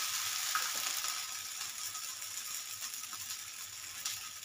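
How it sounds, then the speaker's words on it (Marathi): Rice flour ghavane roasting in a pan give off a steady, soft sizzle and frying hiss, close and even, with faint stirring scrapes and no talking. "हे बघा, एका साईडने देखील भाजून घेतात, परतून घेऊया।"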